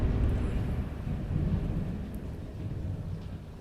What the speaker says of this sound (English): it is thundering and raining outside